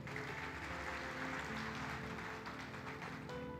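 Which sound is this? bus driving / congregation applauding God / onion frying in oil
congregation applauding God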